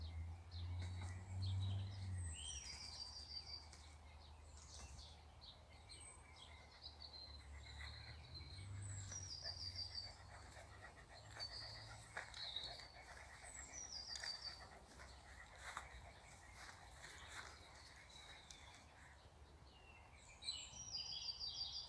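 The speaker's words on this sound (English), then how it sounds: "And listen to the birds sing." Birds singing outdoors on a walk among trees, repeated faint chirping phrases over a quiet background hum with crickets, distant and soft.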